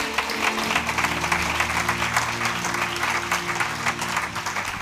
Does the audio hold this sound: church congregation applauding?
yes